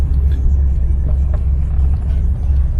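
A 1969 Chevrolet Impala engine idles with a low, uneven, choppy rumble, close and steady with no talk.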